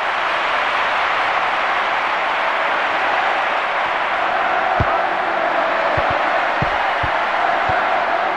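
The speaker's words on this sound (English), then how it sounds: "Deserves the applause there." Stadium crowd applauding in the FIFA 99 football video game on PS1, a loud, steady wash of crowd noise and applause with a few dull thuds near the end.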